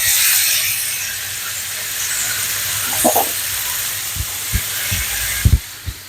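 Mixed vegetables sizzling in a pan with a steady loud hiss, while a utensil stirs and occasionally knocks against the pan, heard close and alone.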